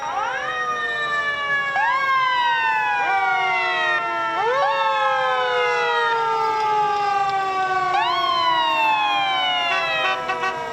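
Newark Fire Department fire engines at a St. Patrick's Day parade sound wailing sirens, several overlapping rising and falling sweeps repeating every couple of seconds, loud and sustained throughout.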